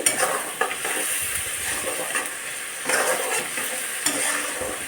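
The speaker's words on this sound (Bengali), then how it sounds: "সমস্ত কিছু এবার ভালোভাবে কষিয়ে নিতে হবে" Potatoes and spices sautéed in a pan for a vegetarian dhoka curry, a continuous sizzle with frequent scraping stirs of a spatula, close and fairly loud, no voices.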